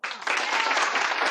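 A studio audience breaks into brief, loud applause, a dense burst of clapping that swells quickly and holds steady.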